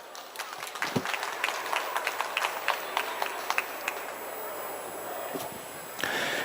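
A seminar audience bursts into clapping after a talk on employment at a social enterprise, a steady mass of claps that holds for several seconds at moderate level, with a louder swell near the end.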